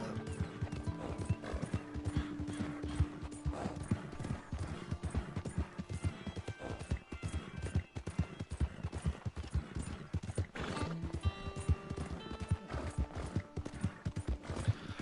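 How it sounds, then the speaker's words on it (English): In the video game Red Dead Online a horse gallops with a steady, fast pounding of hooves that carries on throughout, close and loud, with a snort or whinny mixed in. "watch your horse gallop"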